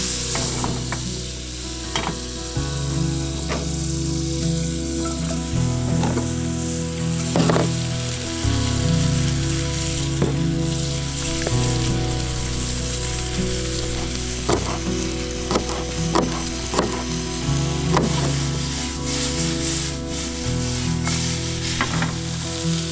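Meat and vegetables sizzle steadily on a camp stove at a solo mountaintop campsite in Mendocino, a continuous close frying hiss with occasional pops and scrapes, and no voices.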